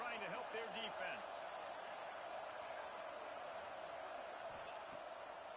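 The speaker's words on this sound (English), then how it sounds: "Listen to this crowd just shaking the girders of this place, trying to help their defense." A football stadium crowd roars steadily to back its defense, a dense and constant wall of noise with faint voices and a few thuds underneath.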